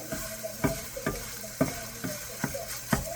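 Hamburger meat sizzles with veggies in a frying pan, a steady frying hiss broken by regular scraping stir strokes roughly every half second, close and alone.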